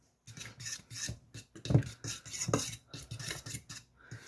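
Flour and salt are mixed together in a bowl for homemade pie crust, giving a quiet rhythmic run of rasping scrapes and rubs, close and without talking.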